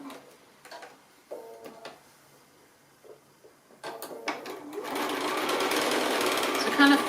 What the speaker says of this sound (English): we come back onto the fabric and stitch